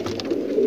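A blue Sajahapuri high flyer pigeon gives one short, low coo, close and clear, with no other voices.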